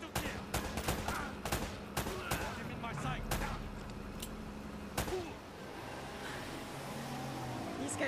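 Rapid gunfire from a firefight in Uncharted: Drake's Fortune, with sharp repeated shots and bursts crackling over a steady battle din, while voices talk over the shooting.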